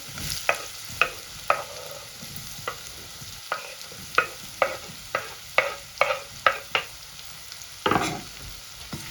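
Mango pieces frying in oil in a pan for mango murabba, with a dozen sharp spatula scrapes and stirs at uneven intervals over a faint background sizzle, close and clear with no talking.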